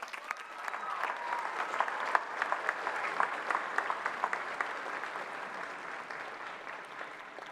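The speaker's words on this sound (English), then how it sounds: "well-deserved round of applause." Steady applause from a large crowd, dense clapping that holds evenly throughout with a few sharper claps standing out.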